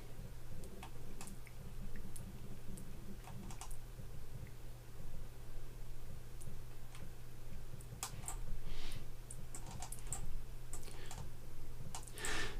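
Computer keyboard keys tapped during Photoshop mask editing, with the square bracket keys used to resize the brush: light scattered clicks in irregular bursts over a steady low background hum, with no talk.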